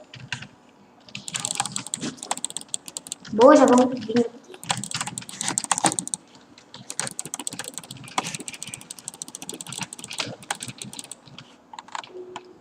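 Rapid jitter clicking on a computer mouse during a Minecraft PvP soup match, a dense, steady stream of close, crisp clicks running nearly throughout, with a short burst of speech partway through.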